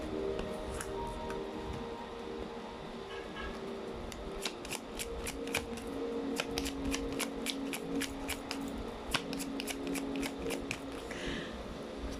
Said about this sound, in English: Let's try to pull up more cards here.